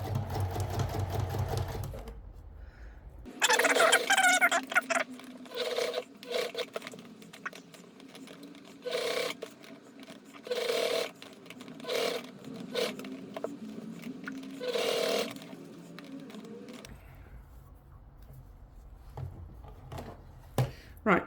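A sewing machine stitches a cloche hat in short, intermittent bursts of fast mechanical whirring. The bursts are separated by brief pauses and some faint handling noise, with a low hum at the start.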